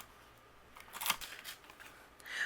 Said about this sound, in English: I'm just going to take my scissors and leave a little bit of a border